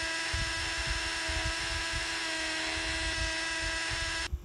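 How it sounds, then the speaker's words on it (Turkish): A toy saw gives a steady, loud electric buzz with a constant whine, running unbroken for about four seconds before cutting off abruptly. "Bu da testere."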